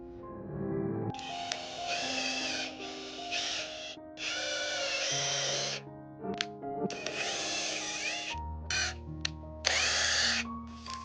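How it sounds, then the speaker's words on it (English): A power drill whirs in several bursts of a few seconds each, pre-drilling holes in wood for raised garden beds, starting and stopping, with a lower motor hum beneath; close and loud. "I'm gonna pre-drill some holes in order for me to be able to drill into them"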